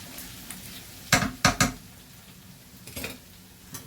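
Chicken and mushrooms being stirred in a pan as béchamel sauce is added, with a few short, close scraping strokes in quick succession and a faint sizzle underneath.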